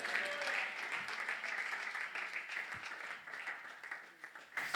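A church congregation applauds the Lord during a worship service, producing a sustained, dense wash of clapping that stays loud and steady throughout, with voices mixed faintly underneath.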